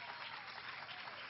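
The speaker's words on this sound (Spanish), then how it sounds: "Dense un fuerte aplauso." A church congregation applauds during a rainy-day service with a brief, steady burst of dense clapping from many hands, fairly quiet and with no speech over it.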